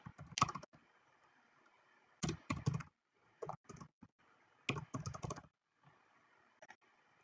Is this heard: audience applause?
no